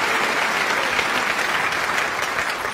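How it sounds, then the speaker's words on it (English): Steady applause from a snooker crowd after a difficult red is potted, a dense continuous patter of clapping that is fairly loud and even throughout, with no speech. "And again, applauded by his opponent."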